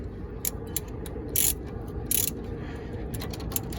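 A ratchet wrench with a 14mm socket loosens the front brake caliper bolts on a 2002–2006 Suzuki Grand Vitara, XL7 or Chevy Tracker, giving a few short, close clicking bursts over steady background noise.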